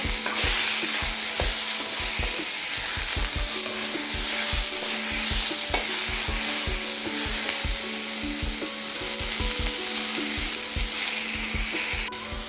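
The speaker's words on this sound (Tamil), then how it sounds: "சேர்த்து இதையும் நல்லா வதக்கிக்கோங்க." Onion and tomato sautéing in a pan for coriander-mint chutney, a steady loud sizzle with frequent scraping stir strokes in an irregular rhythm throughout, no talking.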